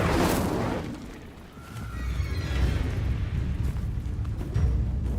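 Incendio fire spell blast in Hogwarts Legacy, a sudden loud whooshing burst that fades into a rough roaring rumble with crackling texture.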